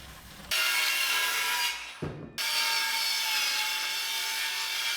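A board ripped down lengthwise with a power saw in a shop build: a loud continuous whining cut that starts abruptly, dips briefly with a short knock midway, then resumes steadily to the end.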